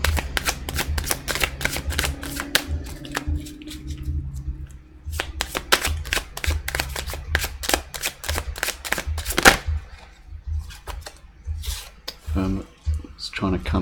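Tarot cards being shuffled in a quick run of crisp riffling and rubbing bursts, steady and close, with a person speaking under and between the card noise.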